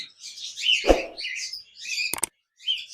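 Pet cockatiels in a cage, a female sitting with chicks, give a few short high chirps and tweets close by, with one brief lower squawk and gaps of quiet between calls.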